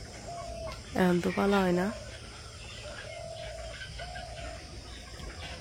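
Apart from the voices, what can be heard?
rooster crowing in the village morning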